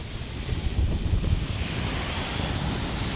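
Rough Black Sea surf crashes and churns on a wild black-sand beach at Pomorie, Bulgaria, under strong, gusting evening wind buffeting the microphone, a continuous loud roar with no voices.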